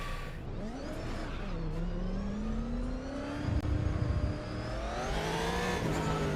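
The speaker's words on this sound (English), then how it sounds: "God, I love the sound of this C6 Z06, one of my favorite cars in the real world." Corvette C6 Z06 V8 engine in the RaceRoom racing game, revving and shifting through rising and falling pitches with a throaty growl, loud and continuous over several seconds.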